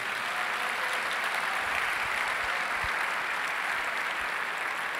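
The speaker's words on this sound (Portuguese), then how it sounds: "Dá um aplauso a esse Deus grande." Steady applause from a church congregation during a worship service, a dense, even wash of clapping that holds throughout with no talk over it.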